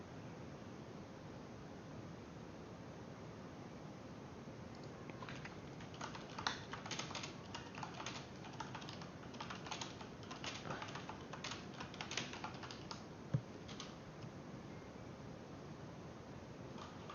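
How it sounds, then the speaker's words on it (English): Quiet typing on a computer keyboard: bursts of soft key clicks starting a few seconds in and continuing intermittently over steady background hiss, with no talking. "I don't even know what I was typing in chat."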